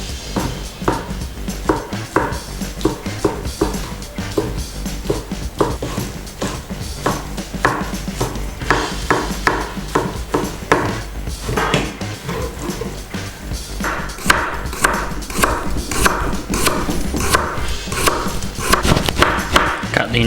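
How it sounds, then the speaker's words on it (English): A kitchen knife chops a thin egg crepe into julienne strips on a cutting board, giving rapid, steady tapping cuts close by that continue throughout with no talk. "First I'm gonna cut egg seed in julienne."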